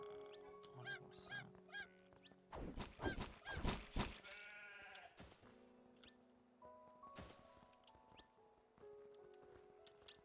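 Farm animals bleat and honk in the survival crafting game Craftopia, several overlapping calls in a busy burst over steady game music, with no talk.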